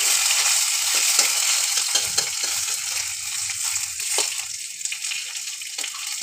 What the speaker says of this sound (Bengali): কালো জিরে, কাঁচা লঙ্কা, শুকনো লঙ্কা একটু ফোড়ন দেবো